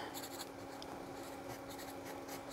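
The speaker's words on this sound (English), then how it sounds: "So now let's see how it does with the broad nib." A broad-nib fountain pen scratches across paper in quick strokes and short pauses, faint and close, over a low steady background hum.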